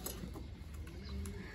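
Pigeons cooing on a rooftop among pet birds, soft low coos close by over faint background noise, brief and unaccompanied by speech.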